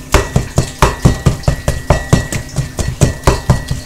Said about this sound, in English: take our handy dandy Pampered Chef mixing chop, and we're just going to sit here and we're just going to mix it all up with this.